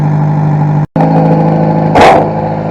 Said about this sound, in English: It's kind of loud because that block-off plate fell off in under the engine bay.